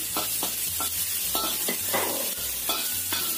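Garlic sautéing in a pan, a steady sizzle with repeated scraping strokes of a spoon stirring at a regular rhythm, close and clear, with no voices.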